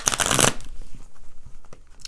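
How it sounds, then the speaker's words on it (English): A brief burst of oracle cards being shuffled up close, a loud papery riffle followed by a few soft taps and shuffles. "I like to do additional shuffles on camera."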